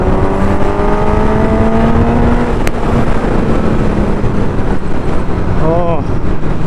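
A Suzuki Katana 1000cc motorcycle engine revs hard as the throttle opens, its pitch climbing in repeated surges. The loud, close roar continues steadily with a brief sharp crackle midway.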